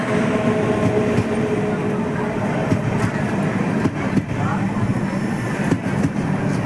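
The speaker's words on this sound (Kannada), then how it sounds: "ಈಗ ಪೂರಿ ಜಗನ್ನಾಥ್ಗೆ ಹೋಗುವಂಥ ಟ್ರೈನ್ ಬರ್ತಾ ಇದೆ ಬೀರೂರು ರೈಲ್ವೆ ಸ್ಟೇಷನ್ ತಲುಪಿದೆ" A passenger train bound for Puri rumbles steadily into Birur railway station with a loud, continuous roar and occasional clanks, with voices faintly audible underneath.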